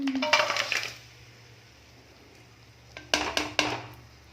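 Jaggery stirred into ghee in a pan, with clattering scrapes and clinks of a utensil against metal at the start and again near the end, separated by a stretch of low background hum.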